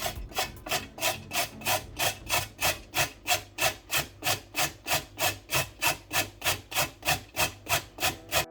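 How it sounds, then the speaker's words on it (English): Raw carrots grated on a hand grater for homemade coleslaw, a steady back-and-forth run of about twenty rhythmic rasping strokes, close and clear with no talking. "I'm just going to use this beautiful grater and grate out my carrots."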